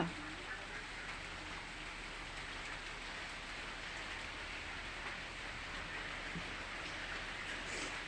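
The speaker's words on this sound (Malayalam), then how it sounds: "നല്ല മഴയാ" Steady rain falls outdoors with an even, hissing patter that continues unbroken throughout. It sounds moderately distant and fairly soft.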